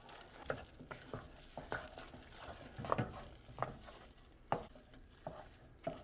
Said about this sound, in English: keep stirring, making sure to push the dough along the sides of the pan so that it cooks